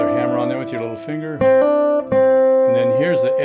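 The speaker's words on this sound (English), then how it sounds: "Another hammer on there with your little finger." Acoustic guitar notes played with a little-finger hammer-on during a lesson on the gospel tune Jesus Walked This Lonesome Valley, several ringing notes sounding clearly, with a voice talking over the start and end.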